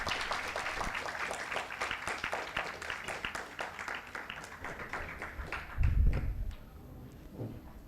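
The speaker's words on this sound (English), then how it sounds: "So please give it a round of applause." Audience applause rises for the conference panelists at a technology and security summit, dense and sustained clapping from a hall that thins out toward the end, with a low thump partway through.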